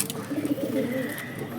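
Pigeons in a loft give soft, close, repeated throaty coos with a faint chirp, alone without talk.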